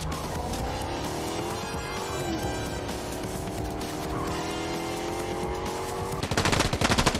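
A car driving in the video game Fortnite, its engine droning steadily with rising and falling pitch, mixed with gunfire and a loud burst of rapid shots near the end.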